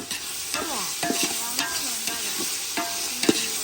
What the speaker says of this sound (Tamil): வெங்காயம் நல்லா பொன்னிறமாக வதங்கிட்டு